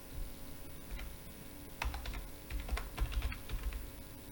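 Someone types a short command on a computer keyboard: a quiet burst of light, irregular key clicks, close up, with no speech.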